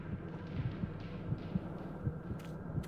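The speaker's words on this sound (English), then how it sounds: "Why is my heartbeat going up?" A horror video game's heartbeat effect in a cursed forest, with low muffled thumps repeating in a steady rhythm over a faint hum, and no voices.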